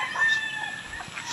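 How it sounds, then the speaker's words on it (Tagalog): Chickens cluck and murmur close by inside a chicken house, with a rooster-like call, continuous over the short stretch. "May mga manok na doon sa loob."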